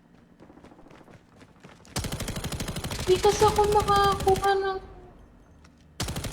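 Rapid bursts of video-game gunfire in Honor of Kings, a dense rattling volley lasting a few seconds and then starting again, with a player talking over it.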